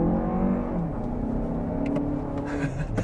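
A 2024 Lexus TX 500 pulls hard at full throttle with a steady engine drone and a rising electric whir as the motors spool up, heard from inside the cabin, with a few faint clicks near the end.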